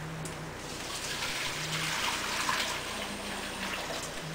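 Cooking liquid strained back into a cast iron pot, a steady broadband pour of water running continuously and fairly close for several seconds with no talking.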